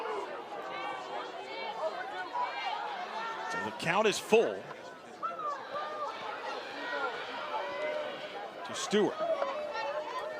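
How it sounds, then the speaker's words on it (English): A rowdy Friday night crowd at a college softball game between Texas and UCF, a restless murmur of chatter and scattered shouts beneath continuous play-by-play commentary, with a couple of brief louder bursts. "Some of the faithful here get a little restless on this rowdy Friday night crowd"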